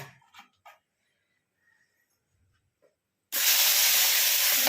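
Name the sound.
oil with salt and turmeric frying and spattering in pan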